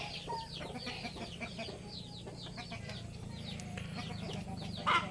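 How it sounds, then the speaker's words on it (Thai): Several hens cluck on a Thai chicken farm, with soft, scattered clucks and chirpy calls over a low background hum and one louder squawk near the end. "จะมีแม่ไก่ติดหลายตัวนะครับ"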